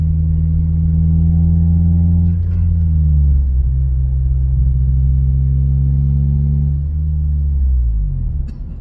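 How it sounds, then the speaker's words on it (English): A small car's K20 four-cylinder engine holds a loud, steady high-RPM drone near the listener, its pitch dipping briefly around the middle and easing down toward the end, with no talk over it. "I love my little K20 block. High RPM sound really good."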